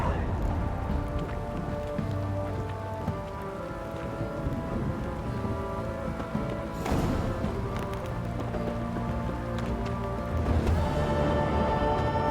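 Steady rain falls in The Witcher 3, a dense, even hiss that runs the whole time, mixed with game sounds and faint background noise.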